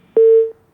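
A single steady electronic telephone tone sounds as a call drops on a phone-in line, one clean half-second beep, loud and isolated against near silence.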